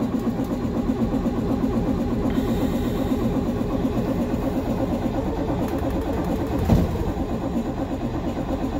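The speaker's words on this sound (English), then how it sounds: "This is a cold start of a 2006 Freightliner Thomas FS-65 school bus with a Caterpillar C7 diesel engine." A 2006 Freightliner Thomas FS-65 school bus with a Caterpillar C7 diesel is started cold at minus 8 °C, producing a steady, close, rhythmic mechanical chugging with no talking over it.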